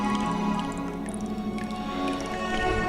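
Water dripping from a shower tap in the video game The Last Door, soft squishy drips over a quiet tonal ambient background.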